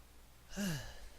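A single quiet yawn from a person, a brief breathy exhale with a falling voiced tone, heard alone against faint background hiss.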